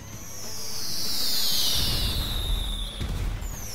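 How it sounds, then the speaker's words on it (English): Fireworks shooting up out of the ground in a modded video game, a long rising whistle sweeping across the clip with crackling bursts and low rumbles arriving in the second half, loud and fairly close. "Yeah, fireworks is modded."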